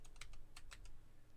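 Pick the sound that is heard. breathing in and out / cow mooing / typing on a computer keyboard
typing on a computer keyboard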